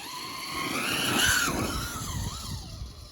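A Traxxas Slash 4x4 VXL RC car tears across a snow track, its high motor whine rising and falling with throttle and wheelspin. It is loud and close, building to a peak midway, then easing off.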